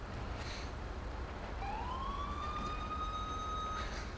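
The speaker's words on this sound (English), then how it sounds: "the CHP Siren does sound nice" A CHP police car siren in the LSPDFR police game gives a single rising wail that sweeps up and holds, heard clearly over a steady background hiss with no talking.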